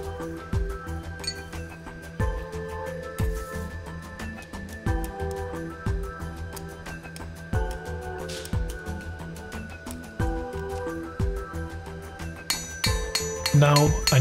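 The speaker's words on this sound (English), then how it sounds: "To protect the anvil and the chisel, I'm cutting on top of a piece of copper." A hammer drives a chisel through steel set on a copper plate over an anvil in a forge. Ringing metallic strikes land roughly every two seconds, close and clear, with faint clinks between blows.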